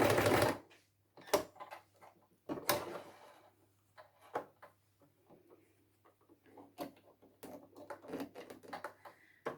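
A sewing machine stitches a seam on a scrappy basketweave quilted table runner, heard as close, intermittent bursts of mechanical clatter separated by short pauses and handling noises, with no talking.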